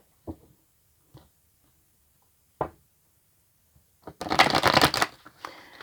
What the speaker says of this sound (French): Allez, on va procéder à un petit mélange.